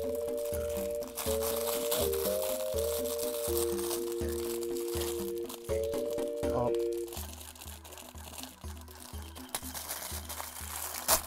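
A bootleg yellow Pikmin plush being handled in a plastic bag, giving steady crinkling and rustling of plastic close to the microphone, with intermittent electronic music tones playing underneath.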